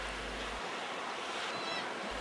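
North Sea waves break against the base of Bulbjerg cliff on the Danish coast, a continuous rushing surf with wind noise on the microphone and a swelling wash toward the end.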